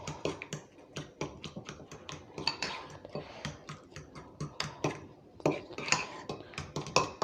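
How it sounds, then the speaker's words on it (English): Plain yogurt mixed with salt and sugar in a bowl, a spoon tapping and scraping in quick, steady clicking strokes close by, with no talking. "In my plain yogurt, I'll add a bit of salt, a bit of sugar, sorry, and then I will mix it."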